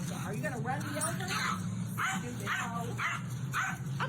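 A dog barks and yips in a steady string of sharp, repeated calls, fairly close, over a constant low background hum.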